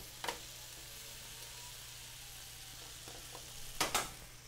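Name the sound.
tomatoes, artichokes and garlic browning in a pan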